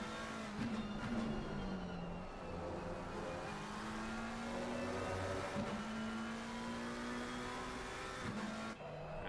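A Porsche race car engine in a sim racing game at Misano powers out of a hairpin, revving steadily with gear changes and brief cuts, moderately quiet and continuous with no talk.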